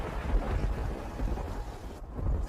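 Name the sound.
rain and thunder in an animated cartoon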